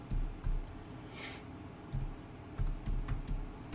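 Typing on a computer keyboard while writing code, a run of light, uneven clicks and keystrokes at close range with short pauses between bursts.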